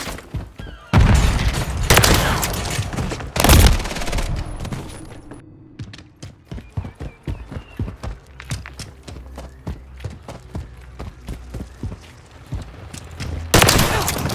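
Gunfire in the shooter game Modern Warfare 3: loud, sustained bursts of automatic fire with heavy blasts at the start and finish, and rapid individual shots crackling through the middle, no voices.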